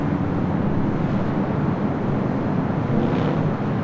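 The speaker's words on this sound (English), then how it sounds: "It's operated by Air Japan, heading to Tokyo Haneda in the 787-8 Dreamliner." A Boeing 787-8 Dreamliner operated by Air Japan at LAX, bound for Tokyo Haneda, makes a steady, broad jet roar that holds loud and even throughout with no talk.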